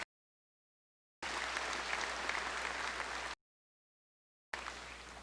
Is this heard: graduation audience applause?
yes